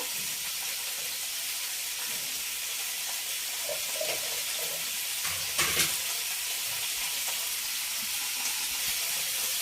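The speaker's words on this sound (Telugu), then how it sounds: "ఇవి సిమ్లో వేగుతూ ఉంటాయి." Onion pieces fry in oil in a pot over low heat for mushroom biryani, giving a steady gentle sizzle with one brief utensil clatter partway through, no talking.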